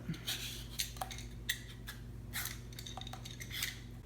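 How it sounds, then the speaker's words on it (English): Repeated short scraping strokes, a quiet rasping rhythm of a peeler shaving skin off a rutabaga, close by with a low steady hum underneath. "I'm going to use my peeler and take off all of the skin"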